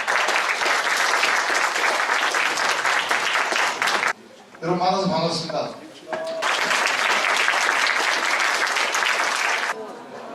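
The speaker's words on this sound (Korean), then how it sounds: "박수로 환영해 주시기 바랍니다." An audience applauds to welcome a Korean community leader and CEO to the lecture stage, sustained dense clapping that breaks for a brief spoken greeting, then swells again at full strength.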